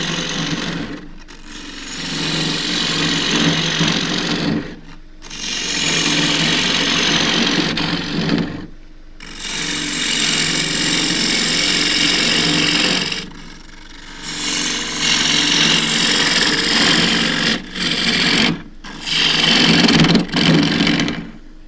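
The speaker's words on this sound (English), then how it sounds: "So I'll take this one out with a 3/8 bowl gouge, half an inch diameter gouge" A bowl being turned on a wood lathe with a 3/8 bowl gouge, loud close cutting bursts of several seconds each, broken by brief quiet pauses between passes.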